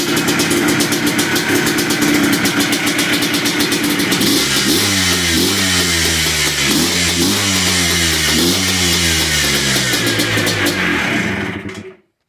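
A Yamaha Blaster engine, repaired after a bogging, no-rev fault, runs loud and close, then climbs through a series of sharp rising revs before cutting off abruptly.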